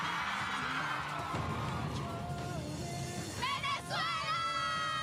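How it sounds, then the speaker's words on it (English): Fans at a New York Comic Con panel for the Twilight tenth anniversary scream and cheer continuously, a loud, dense crowd roar with shrill whoops rising near the end. "If we're judging by the screaming, it was wonderful."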